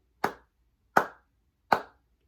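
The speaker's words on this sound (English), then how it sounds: "be sure to clap along like how I've been using my sticks" Three crisp hand claps land at an even, steady pace, each one sharp and close with a short decay into silence between them.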